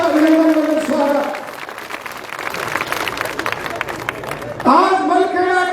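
Crowd at a political welcome rally in Malkheda claps in a sustained burst of applause for a politician, rising between stretches of loud amplified speech.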